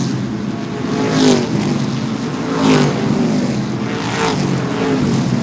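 Modified race cars at Seekonk Speedway during the True Value Mods 100 give off a loud, continuous engine roar that swells in repeated waves as the cars pass around the oval.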